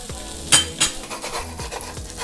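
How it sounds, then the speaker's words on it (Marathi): An omelet roll fries in a pan with a soft sizzle while a utensil scrapes and clinks against the metal in a few quick strokes, loud and close. "असं छान भाजून घ्यायचं।"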